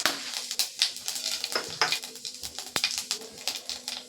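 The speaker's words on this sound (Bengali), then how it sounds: "এই যে অল্প করে একটু 5 ফোঁটন দিয়ে দিলাম, হাফ চামচের মতন।" Panch phoron spices crackle in hot oil in a pan as a fish curry begins, giving faint scattered pops and light sizzling with a few sharp ticks throughout.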